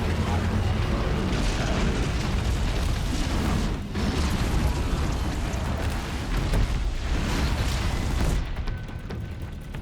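Bombs go off in the video game Horizon Zero Dawn, a dense stretch of loud booming blasts and rumbling bursts that keeps churning almost without pause, easing slightly near the end.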